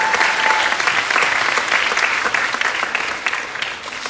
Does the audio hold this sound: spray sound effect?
no